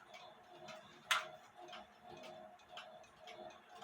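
A Black Forest cuckoo clock with its back door removed ticks faintly and evenly, with one sharper click standing out early in the quiet.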